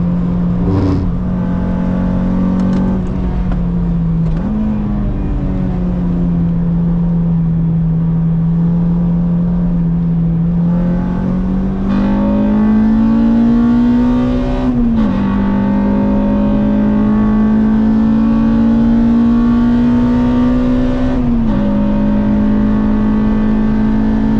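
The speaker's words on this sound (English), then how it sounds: "MX-5s out on the track today." Mazda MX-5 cars racing on the track at Brands Hatch, with a steady loud in-car engine drone that rises and dips in pitch through gear changes and corners, continuous and close, with no speech.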